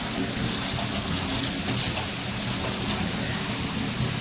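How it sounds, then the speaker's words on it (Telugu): Heavy rain pours down steadily during a festival at home, a dense, loud, unbroken hiss of falling water with no voices. "ఇక్కడ వర్షం బాగా పడుతుంది"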